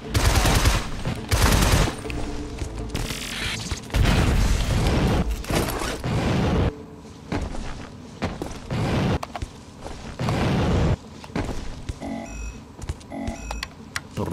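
Rapid gunfire from the player's weapon while shooting spiders in the video game Shadow Complex, loud bursts of repeated shots in uneven clusters with short pauses, plus mechanical clicks and a few small electronic tones near the end.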